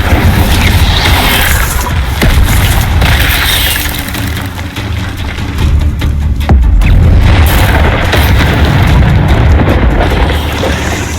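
Incendio fire spell repeatedly cast during Hogwarts Legacy gameplay, loud rumbling bursts and booming whooshes over a dense, continuous game soundscape.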